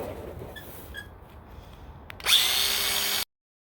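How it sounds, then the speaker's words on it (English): An angle grinder cuts into a gutter: after quiet rustling, a sudden loud, harsh grinding whine starts close by and holds steady for about a second before it stops abruptly. "I'll cut this with the grinder"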